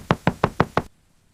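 Five firm, evenly spaced knocks on a door at night, close and loud, followed by silence.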